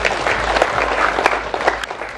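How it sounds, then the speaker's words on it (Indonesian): Wedding party guests clap together in dense, lively applause, a loud steady patter of many hands close by with a few sharper individual claps. "saya minta kita beri tepuk tangan yang paling meriah"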